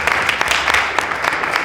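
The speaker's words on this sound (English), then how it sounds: "Come on, can we bring Erica for a round of applause, please?" Audience applause at a live panel event, a short burst of clapping with sharp claps over a steady crowd wash, moderately loud.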